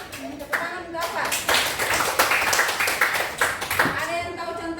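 A classroom group clapping together in a short burst of brisk, close applause, with voices talking over it.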